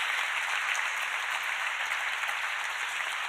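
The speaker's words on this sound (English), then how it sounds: "we do have applause in the room" Applause from an in-person audience at the MN Cup Finals awards ceremony: a steady, continuous wash of clapping, moderately distant and reverberant, with no break for its short length.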